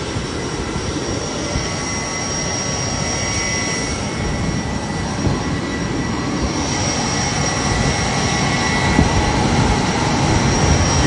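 Steady, loud jet airliner engine roar fills the plane cabin as a continuous broadband drone with no pauses, sometimes swelling slightly, with no one speaking.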